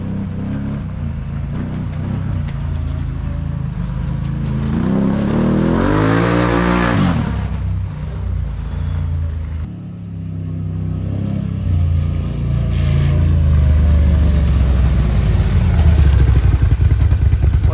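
A Can-Am Renegade 1000 ATV fitted with a Yoshimura exhaust idles with a deep, loud rumble, then revs up and back down before settling into a throbbing idle and rising again.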